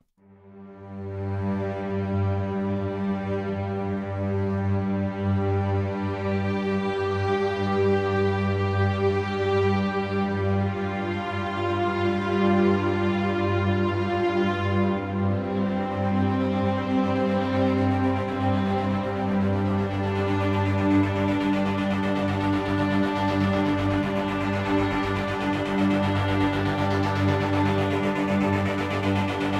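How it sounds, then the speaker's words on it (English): Bowed-string tones from the Arturia Augmented Strings software instrument play as a thick, sustained chord. The morph control is raised steadily, so the tone grows brighter and more textured from about halfway through. The sound is loud and continuous throughout. "I'm going to play those strings again, but I'm gradually going to turn it up."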